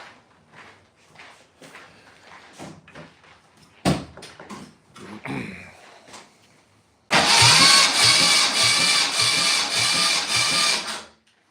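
An engine cranking over with the power steering pump and alternator belt removed, starting after scattered clicks and knocks with a loud, steady rhythmic whir of the starter for several seconds, close up.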